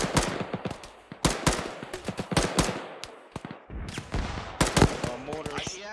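Gunfire in an ArmA 3 infantry firefight as a patrol engages a BTR, sharp loud shots and short bursts, some near and some farther off, with radio-style voices talking between them.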